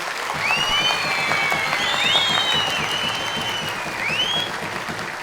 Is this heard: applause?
yes